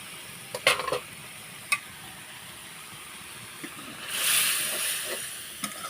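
Meat simmering under a lid in a pot for spicy meat puli pitha, a steady soft bubbling hiss with a few sharp clinks early on and a louder surge of sizzle near the end.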